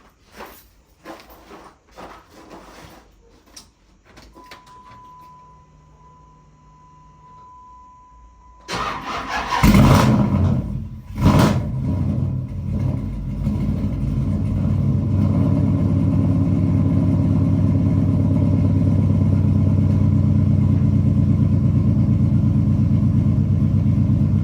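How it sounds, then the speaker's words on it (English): A Dodge Charger SRT8 V8 cranks over on a cold start and catches with a loud burst. It settles into a steady, deep idle rumble close by, after quieter handling noises. "I want y'all to listen close to when I first start up the car"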